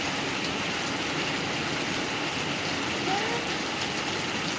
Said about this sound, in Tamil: மழை வந்து பலத்த மழை பெய்யுது பாருங்கள்